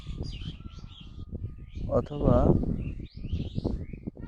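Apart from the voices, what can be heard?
uncommon colourful bird calling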